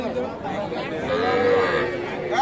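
A young Sahiwal bull calf, about three months old, gives a drawn-out bawl at a busy rural cattle market, with people chattering around it.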